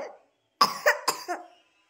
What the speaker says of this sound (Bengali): কাশি হচ্ছে, জল দেবো?